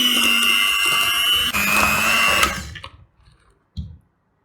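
An electric mixer beating butter and sugar for butter cake batter, a loud steady whirring whine that shifts pitch slightly, then cuts off, followed by a single brief clunk.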